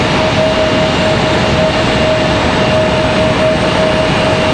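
A Southwest Airlines jet departs Raleigh-Durham International in stormy weather, a loud, steady engine roar with a sustained tonal whine, continuous throughout and with no talking.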